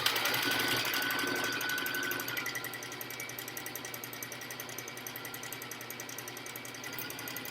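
A sewing machine stitches back and forth to lock a seam on an N95 mask cover, its needle running in a steady rapid chatter that eases slightly partway through and keeps going to the end, close and alone.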